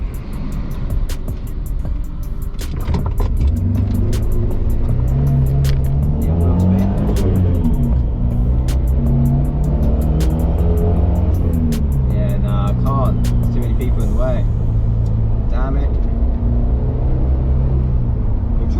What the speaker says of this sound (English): I'm probably going to wheel spin, to be fair. It's quite slippery out.